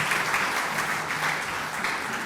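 Audience applause for a visiting speaker at a roundtable discussion, a steady wash of clapping from many hands, fairly close and continuous for its whole length, with no talk over it.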